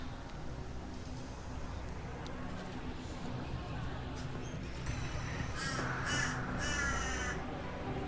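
Crow cawing in a video game set in a starship cabin, several harsh caws arriving in a cluster near the end over a steady low hum and a voice speaking underneath.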